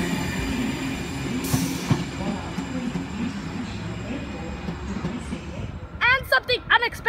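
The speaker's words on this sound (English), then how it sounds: "S102 departing platform number 3" Sydney train S102 pulls out of platform 3 at Macarthur station with a low, steady rumble and a brief squeal early on, ending in a few sharp chirping bursts.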